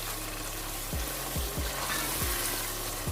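Spices and fenugreek seeds fry in a pan for aloo gobi with a steady broadband sizzle, broken by several low scraping knocks of a spoon stirring through the pan.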